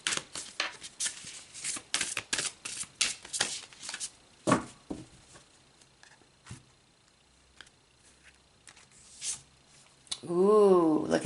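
Chakra oracle cards shuffled by hand for a tarot reading, a fast run of crisp riffling flutters through the first half, then scattered soft card slaps and taps, ending with a brief louder swishing burst.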